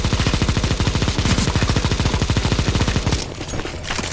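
Rapid, continuous automatic gunfire from many players shooting at a boss in a CS:GO zombie escape map. The shots form a dense, loud, steady rhythm for about three seconds, then break into scattered shots.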